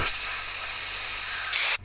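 An aerosol spray can gives a steady, loud, close hiss lasting under two seconds, then cuts off abruptly.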